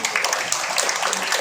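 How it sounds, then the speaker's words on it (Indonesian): Brief burst of audience clapping at a seminar, a short even patter of hands without pause. "tepuk tangan, beliau."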